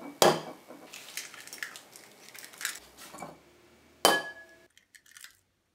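Eggs are whisked in a bowl in a short burst of soft clinking and sloshing, framed by a sharp clink at the start and another near the end, quiet and close with no speech.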